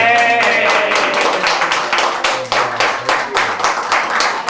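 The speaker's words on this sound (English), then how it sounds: "For the camera, can we hear an applause?" An audience applauds at a Filipino-American history month community event in Hawaii, with distinct, fairly loud hand claps sounding continuously and slightly uneven in rhythm throughout.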